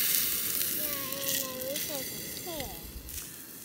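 Steak sizzling and frying over an outdoor campfire, a steady close crackle and hiss running throughout, with a child's and adult's voices talking over it.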